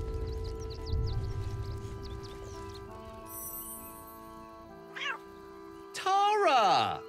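Cat meows in the fantasy role-playing game Baldur's Gate 3, sounding as a couple of short calls near the end over steady game music, with a voice speaking earlier.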